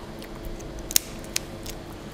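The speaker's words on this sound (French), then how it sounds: "On va prendre des ciseaux pour couper l'arête." Scissors cutting through a fish's backbone while a fish is prepared for stuffing in a kitchen, two sharp crisp snips about half a second apart over a quiet room hum, with no talk.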